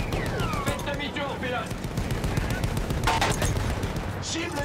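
Rapid, continuous booming cannon fire in the video game Battlefield 1 rattles on over a dense noisy background, with voices talking underneath.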